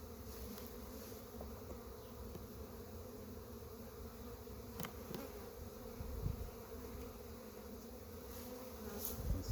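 Honey bees buzz inside an overwintered mini mating nuc packed full of bees, a close, steady droning hum with a few brief clicks and knocks, no talking.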